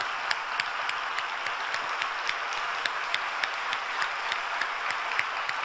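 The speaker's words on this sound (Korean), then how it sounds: "자리에서 일어나실 때에 따뜻한 박수로 환영해 주시기 바랍니다." Faint, steady applause from a distant congregation at a Korean church worship service, with sharp individual claps popping out at a regular pace over a soft wash of hand noise.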